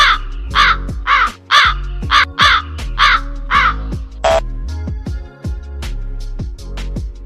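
Repeated harsh crow caws in a steady series, loud and close, with a few short gaps between calls.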